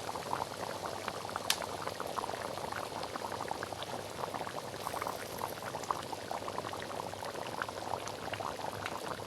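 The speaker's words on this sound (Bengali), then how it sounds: "ঝোল ফুটে আসছে, এবারে হচ্ছে গরম মশলা গুঁড়ো দিয়ে দিল" Bengali-style young goat mutton curry gravy simmers to a boil in a pot, with a faint, steady, dense bubbling and popping that continues evenly throughout, with no talk.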